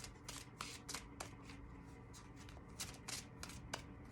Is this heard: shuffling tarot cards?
yes